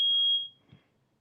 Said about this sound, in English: I'm about to take this smoke detector out, y'all.